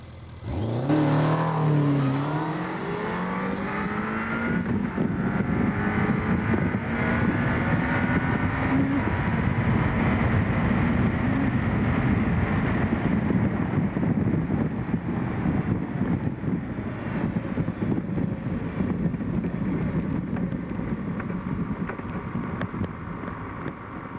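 A Kawasaki Z1 motorcycle launches on a drag run, its engine revving hard and climbing through the gears, then holding a loud, sustained roar with wind rush for over twenty seconds.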